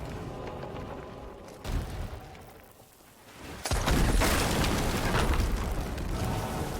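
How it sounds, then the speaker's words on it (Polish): A sudden loud boom bursts in and gives way to a sustained, roaring rumble of explosion noise in Sea of Thieves, after a quieter stretch of ambient hum. "miała być eksplozja, będzie eksplozja"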